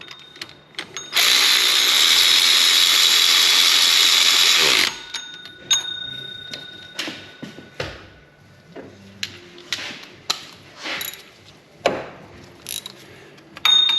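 A ratchet wrench snugs up bolts on a steering component of a HEMI-swapped Jeep LJ, starting with a loud continuous burst of rapid clicking, then a run of shorter, separate ratchet clicks and metallic taps close up.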